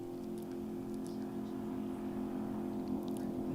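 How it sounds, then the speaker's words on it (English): A race car engine runs at a drag strip, holding a steady, droning hum at a moderate distance with little change in pitch, and faint background noise around it. "Sucker sounds like a race car."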